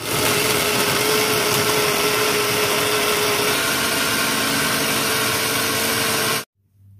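Electric grinder blending chili spice paste for sayur urap, a loud steady whirring motor drone running without a break for about six seconds before cutting off abruptly.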